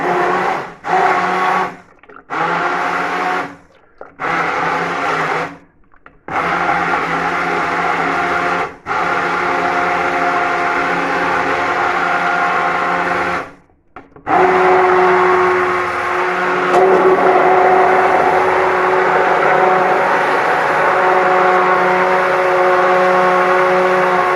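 A blender purees food in a loud, continuous whir that cuts out in several short bursts early on, then runs steadily and strains a little harder toward the end, with no voices.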